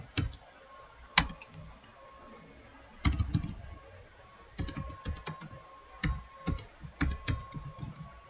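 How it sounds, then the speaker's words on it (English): Quiet, close typing on a computer keyboard, with irregular bursts of key clicks and a few sharper single taps separated by short pauses. "Let's say I type importation business."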